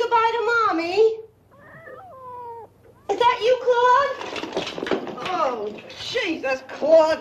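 A house cat meows several times, loud and close, with drawn-out rising and falling cries and a brief caterwauling tone, some overlapping with a person calling it.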